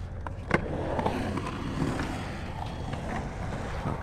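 Skateboard wheels rolling over a roller and into a wall ride at an outdoor skatepark, a continuous gritty rumble with a sharp clack of the board partway through, fairly close.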